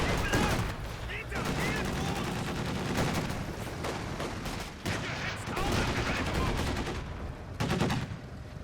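Half-track machine gun fire rattles through a Company of Heroes 2 battle, dense rapid bursts layered with other gunfire and explosions almost continuously, with some voices mixed in.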